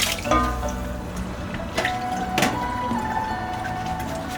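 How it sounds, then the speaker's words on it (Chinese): Rinsed mustard stem vegetables drain, giving a close, continuous wet trickle and splash of running water with a few brief dripping knocks and handling clatters. "把二菜控干水分"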